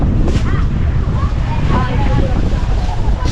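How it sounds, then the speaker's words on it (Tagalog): Strong wind buffeting the microphone in heavy low rumbles, with faint whistling and outdoor noise beneath. "masyadong mahangin"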